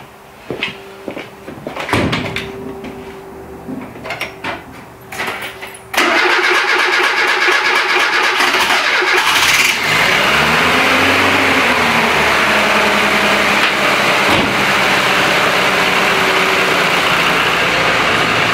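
Renault Trafic van engine cranking after a few clicks and knocks, catching around the six-second mark, then settling into a loud, steady idle with a brief rev, no talk.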